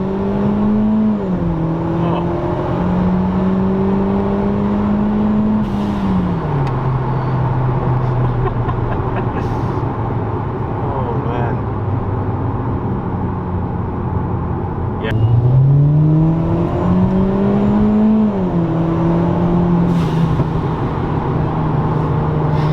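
Modified Hyundai Genesis engine revs and drones steadily, pitch rising and falling through gear changes, loud and close with people talking over it throughout.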